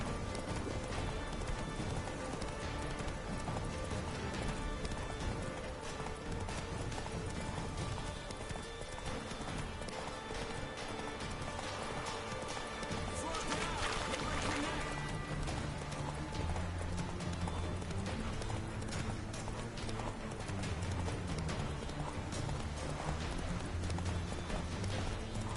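Roach the horse gallops in a video game, a steady stream of hoofbeats running throughout with a brief whinny partway along, over a busy game soundscape and music.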